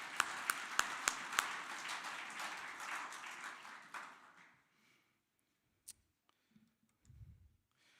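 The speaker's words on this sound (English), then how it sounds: "let's clap our hands for EIT again" A graduation ceremony audience in Johannesburg claps, first as a few sharp isolated claps, then as a thick burst of applause that fades out by the middle, leaving only a couple of scattered faint knocks and rustles.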